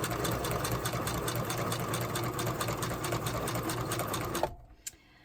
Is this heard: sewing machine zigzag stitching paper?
yes